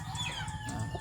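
Hubbard chickens on a farm cluck in a short, close burst of overlapping calls, with other fowl noise in the background.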